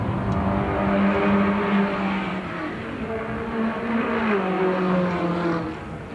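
Production saloon cars racing at Mondello Park in a 1985 ten-lap race, a loud continuous engine drone with shifting pitch as several cars pass close by.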